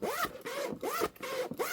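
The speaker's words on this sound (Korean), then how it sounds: "지퍼 보면 그 YKK 이 회사 지퍼 이렇게 왔다 갔다 해보면" A YKK zipper on a black tomtoc T24 Navigator 14-inch sling bag is pulled back and forth, giving repeated close, raspy zipping strokes in a steady rhythm with no talk.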